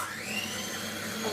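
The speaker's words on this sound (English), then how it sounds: "I prefer to use a slightly easier option, and use the electric whisk" An electric hand whisk whirs steadily through a chocolate mixture, a close, continuous high-pitched motor whine with a slight pitch wobble, loud and alone with no talking.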